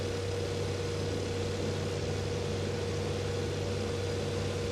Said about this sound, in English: Hear a slight difference in the engine sound.